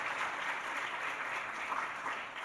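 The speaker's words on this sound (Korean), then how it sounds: "우리 박수로 한번 축하하겠습니다" A church congregation claps in congratulation during a Sunday worship service, a full, even burst of applause that fills the whole moment and tapers slightly at the close.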